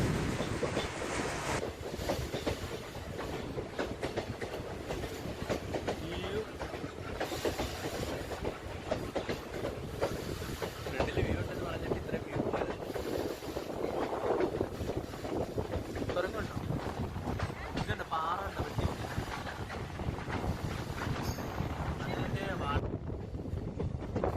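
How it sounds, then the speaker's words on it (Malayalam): A second-class train on the Punalur line through the Western Ghats rumbles steadily along the rails for the whole stretch, with continuous clatter and wind buffeting, no pauses. "ആ ട്രെയിനിൻ്റെ ശബ്ദമൊക്കെ ഇങ്ങനെ കേട്ട് പോകാനൊക്കെ തന്നെ നല്ല ഭംഗിയാണ്"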